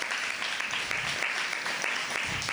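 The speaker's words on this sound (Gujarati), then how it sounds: "આપણે જોરદાર ફરી તાળીઓથી સ્વાગત કરીએ." An audience at a lecture event claps steadily in dense, sustained applause to welcome a historian to the stage, a crowd-wide sound with no voices over it.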